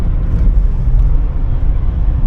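A car cruising along a highway past farm fields in Odesa region, a steady, loud low road and engine rumble with wind noise, continuous and without pauses.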